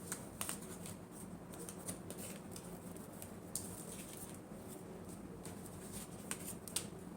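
Tarot cards being shuffled, a soft continuous riffling and patter with quick sharp flicks scattered throughout, close and fairly quiet, with no voice.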